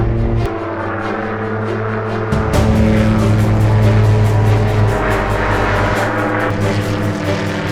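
Aircraft engines drone loudly and steadily in flight, heard from inside the aircraft as a dense continuous roar with a shift in pitch partway through and no talk.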